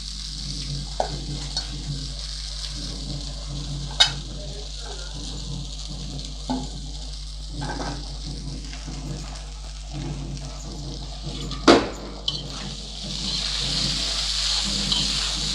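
Vermicelli sautés in a hot pan with a soft continuous sizzle, while a utensil stirs it with intermittent scrapes and sharp knocks against the pan, close and fairly quiet.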